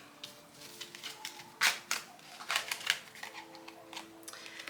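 A tarot deck is shuffled by hand, producing quick bursts of crisp card slaps and riffling clicks in an irregular rhythm, close by and fairly quiet.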